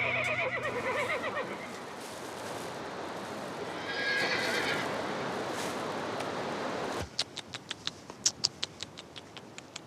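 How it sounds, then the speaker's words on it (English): A Chaar, Kyrgyzstan's dappled horse breed, gives a loud, shuddering whinny at the start, then a quieter stretch follows before sharp clip-clop hoofbeats ring out in an uneven series near the end. "This breed of horse is called the Spotted Beauty."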